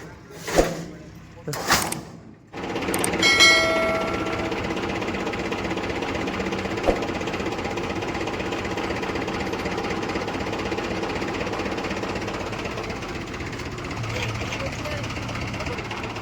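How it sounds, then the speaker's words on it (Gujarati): A tractor engine runs during peanut harvesting in the field, a steady, rumbling drone that settles in after a few sharp knocks at the start, with people talking over it. "ને અહીંયા કને ટ્રેક્ટર ચાલુ હોય"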